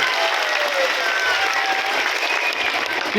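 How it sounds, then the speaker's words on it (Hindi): Loud, sustained applause from a large gathering welcomes Prashant Kishor at a Jan Suraaj event, a dense steady wash of clapping that fills the whole stretch with some crowd noise mixed in. "जोरदार तालियों से हौसला अफजाई कीजिए, इस्तकबाल कीजिए।"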